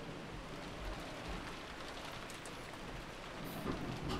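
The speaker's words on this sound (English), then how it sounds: "Meanwhile, outside the mansion, it is still raining." Steady, faint rainfall from a video game, with a soft hiss and scattered patter, continuing evenly throughout.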